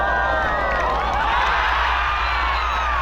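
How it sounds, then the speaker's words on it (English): A golf gallery erupts in loud, sustained cheering and whooping after a 154-yard 8-iron hole-in-one in the 2015 LOTTE Championship final round, a dense roar of many voices with scattered shouts throughout. "You can't tell by that crowd reaction if it's just close or if it's in."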